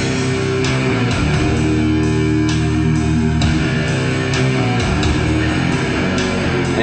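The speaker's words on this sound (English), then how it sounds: "The song actually starts off with an ambient section," A dense, droning wash of layered synth tones and textures from the Universe at War game soundtrack sustains throughout at steady volume, atmospheric and moody, with no voices.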